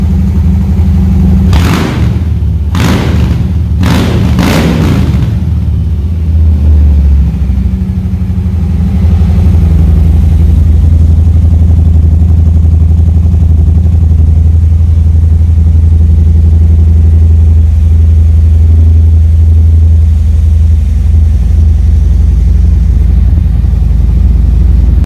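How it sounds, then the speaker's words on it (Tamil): A Harley-Davidson Fat Boy motorcycle with an aftermarket exhaust barks through several sharp, loud throttle blips, then settles into a deep, steady, close idle rumble that lasts for the rest of the clip. "ஸோ இதோட எக்ஸாஸ்ட் நோட் கேளுங்க"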